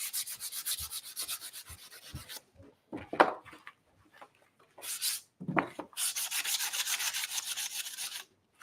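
Hand sanding of thrifted furniture with sandpaper: steady, close scratchy rubbing strokes in bursts, pausing briefly, then a long continuous stretch of brisk scraping toward the end.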